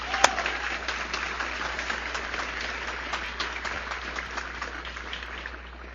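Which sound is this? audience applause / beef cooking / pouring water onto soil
audience applause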